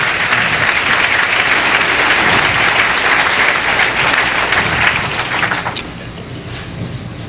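Sustained applause from an appreciative crowd at a 1995 Baltimore Open bowling title match, steady and full for several seconds, then abruptly thinning to a quieter, scattered clapping near the end.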